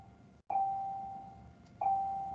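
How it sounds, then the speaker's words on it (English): A doorbell sounds twice, each a clear ringing tone that sustains and slowly fades, the second ring coming about a second and a half after the first, in an otherwise quiet room. "sorry about that, it was the bell."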